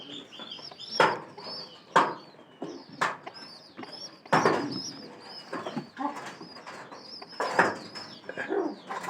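Pigeons in a loft coo repeatedly, with several close calls and bursts of wing flapping at intervals, fairly loud and alone without talk.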